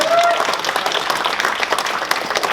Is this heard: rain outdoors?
no